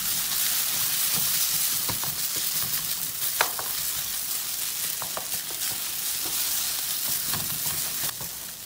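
Quail egg bhurji with shallots being stirred and fried in a pan, giving a steady close sizzle with scattered scraping clicks of the spoon throughout, no voices.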